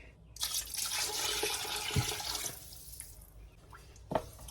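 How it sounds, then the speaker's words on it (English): Water poured into a pot of jollof rice, a splashing, trickling stream that runs for a couple of seconds, then tapers into a few faint drips and clinks. "Then you add water."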